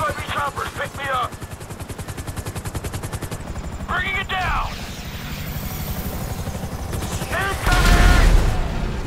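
An FIB helicopter in GTA thunders with a steady rotor chop while bursts of gunfire and shouted voices break in repeatedly, loud and close throughout.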